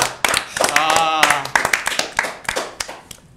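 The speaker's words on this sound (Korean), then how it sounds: "박수 한번 주시죠" On a Korean gaming talk show, a small group gives a short burst of hand clapping. People talk and exclaim over and between the claps.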